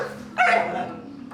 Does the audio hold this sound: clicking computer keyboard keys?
no